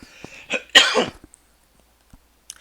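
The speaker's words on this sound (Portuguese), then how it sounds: "Vou ter que tossir, pessoal, me perdoa" A lecturer gives a couple of sharp, harsh coughs close to the microphone during a class, followed by quiet with a few faint clicks.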